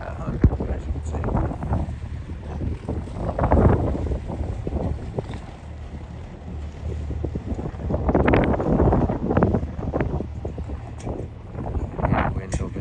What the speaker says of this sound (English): Yeah, wind, obviously.